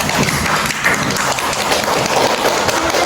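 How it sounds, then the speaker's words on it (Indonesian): Children in a classroom clap their hands together in a sustained burst of dense, overlapping claps that continues without a break, loud and close. "Tepuk tangan dulu dong."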